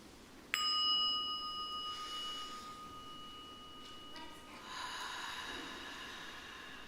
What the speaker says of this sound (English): So I'm going to ring this bell, and then we'll breathe in together